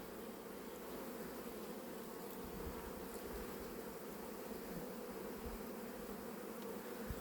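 Honey bees in a hive at the end of the season, a dense, steady buzzing drone, faint overall but continuous, with a few soft bumps and no talk.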